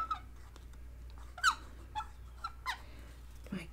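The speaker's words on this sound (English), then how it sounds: "My goodness, what a squeak." Small, sharp squeaks during paper crafting on a mini album: several brief, high, chirpy squeals scattered irregularly over a few seconds, fairly faint against a quiet room.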